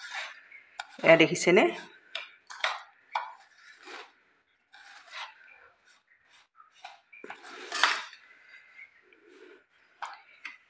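Dry ingredients for coconut idli mixed in a bowl with a spoon, giving intermittent scraping and clinking strokes in short bursts, with a voice speaking between them.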